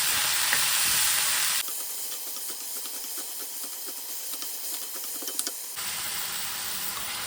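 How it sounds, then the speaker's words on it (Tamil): Onion and chutney ingredients sauté in a pan, giving a steady frying sizzle and hiss with faint stirring scrapes. The sizzle is loud at the start and end and drops to a quieter crackle in the middle, with no talking. "இப்போ இது எல்லாத்தையுமே நம்ம இப்போ சுருள வதக்கணும்."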